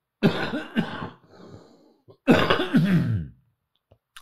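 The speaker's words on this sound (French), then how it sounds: "Excusez-moi, je vais tousser." Two bursts of harsh coughing, close and loud, separated by a short pause with faint breathing.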